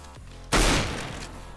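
A single loud gunshot goes off in a video game aim training map and trails off in a decaying echo, with quiet background sound before it.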